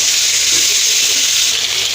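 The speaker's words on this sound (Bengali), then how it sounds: "এবার আমি মাছ ভাজা তেলের মধ্যে আমি এই ওলটা দিয়ে দেবো" Cut elephant foot yam frying in oil left over from frying fish, a loud, dense and continuous sizzle heard up close with no speech over it.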